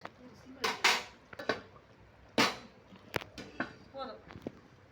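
A metal lid clanks onto a cooking pot of chicken biryani set to simmer, giving a few sharp, faint clinks and knocks spread over a few seconds while someone talks quietly.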